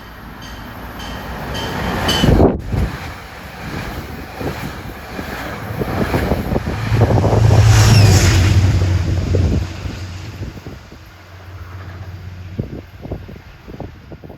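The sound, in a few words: Metro North train 876 passing, Poughkeepsie to Grand Central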